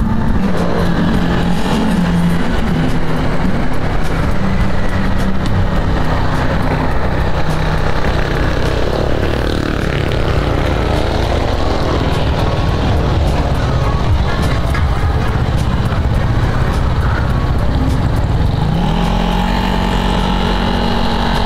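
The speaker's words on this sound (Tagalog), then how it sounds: "Ang makina nya ay piston block JBT brand 63mm." Motorcycle fitted with a JBT 63mm piston block, ridden on the road, a loud continuous engine drone with wind rumble, pitch rising and shifting slightly as it travels, no talk over it.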